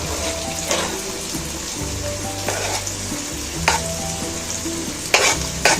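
Chopped tomatoes fry in a pan for an egg-tomato masala, a steady close sizzle broken by several loud scraping stirs and clatters of a spoon against the pan, with no one talking.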